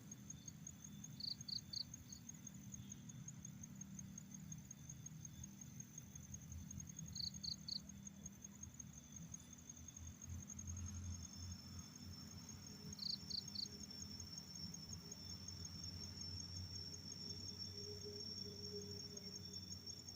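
Crickets chirp in short, evenly spaced pulses, faint and steady, over a low rumble of distant traffic.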